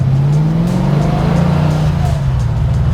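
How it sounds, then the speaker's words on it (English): A car roars past at a cruise event with thousands of cars, its engine loud and close with a steady throaty drone that swells and fades as it goes by. "Oh yeah, I love the sound of this car."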